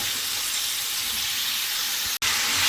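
Pirandai, adamant creeper, frying in oil in a pan, giving a steady close sizzling hiss with a brief cut-out near the end.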